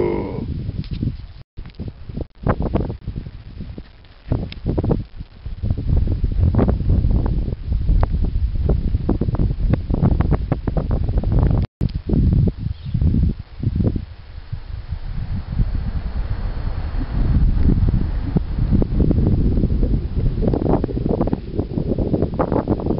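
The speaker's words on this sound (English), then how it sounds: "Windy." Steady wind at Born Lakes, Idaho, buffets the microphone with a low, continuous roar and rumble that gusts and swells throughout, with no voices.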